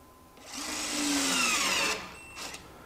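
A Hytorc Lion Gun 700 ft-lb precision bolting tool tightens a bolt to 250 foot-pounds, giving one close, steady mechanical whir that lasts about a second and a half, then a brief second burst.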